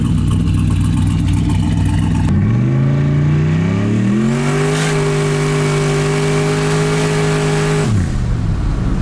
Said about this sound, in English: Got to take him for a ride in the turbo truck.